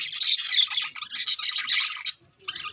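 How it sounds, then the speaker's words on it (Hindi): Small birds chirp and squawk close by in rapid, bright bursts, a lively chatter that continues for a few seconds before briefly dropping and resuming. "और ये चिड़िया देखिए, इनको ना तुलसी बहुत पसंद है।"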